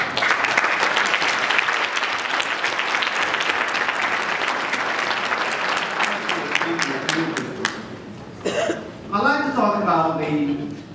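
An audience at a youth empowerment gala breaks into loud, full applause that runs for several seconds, then thins out as a voice begins talking over the last of the clapping.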